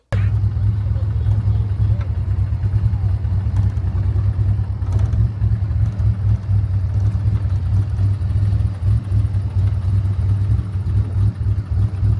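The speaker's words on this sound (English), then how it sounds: "Starting to feel good from that exhaust." A car engine idles with its exhaust rumbling, a loud, close, steady low drone that holds without a break throughout.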